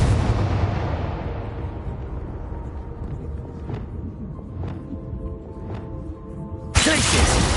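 Blasting-spell explosion from Hogwarts Legacy: a loud burst decays into a long rumbling tail with faint crackles, then a second sharp blast hits near the end.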